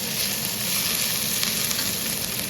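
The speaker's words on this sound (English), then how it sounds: "Cook until light golden on medium heat. Add 1 tablespoon chopped hot Thai chilies." Chopped hot Thai chilies frying in oil with ginger over medium heat for restaurant-style chilli chicken: a loud, dense, unbroken sizzle close up, no voices.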